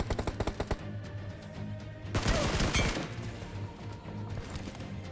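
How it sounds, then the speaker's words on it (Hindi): Gunfire in a BGMI solo-versus-squad battle royale match, with a rapid burst of shots at the start, then a louder crashing flurry of automatic fire and scattered later shots, without talk. "अब हमें पीछे से गोलियां पड़ रही थी"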